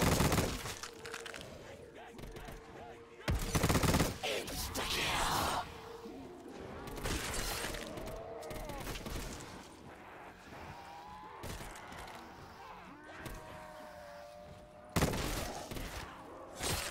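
Black Ops 3 Zombies gunfire, a series of loud sharp bursts at irregular intervals, mixed with speech and other game sounds in between.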